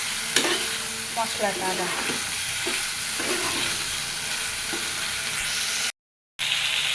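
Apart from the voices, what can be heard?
potatoes being sautéed with spices in a pan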